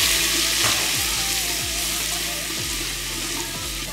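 Onion frying in a clay handi pot over an outdoor stove, with a steady loud sizzle and regular scraping strokes as it is stirred about every half second.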